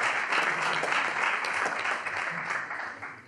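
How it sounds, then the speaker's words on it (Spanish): A modest crowd applauds boxer Jonathan Maravilla Alonso at his weigh-in, a steady patter of clapping that tapers off toward the end, with no talk. "un aplauso para él"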